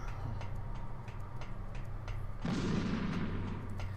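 A time bomb ticks in Metal Gear Solid: Twin Snakes with a steady, evenly spaced series of light ticks over a game background hum. Partway through, a louder rushing swell of noise comes in and holds to the end.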